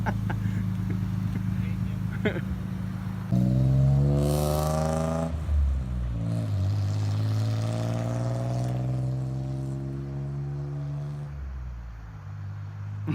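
A 1JZ-swapped FC RX-7 drift car with the exhaust resonators pulled out idles and then revs, its engine note rising and falling up close while people talk over it.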